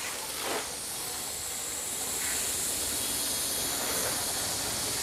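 A steady, forceful hiss of water spraying from a hose sprayer nozzle onto a car, continuous and fairly close.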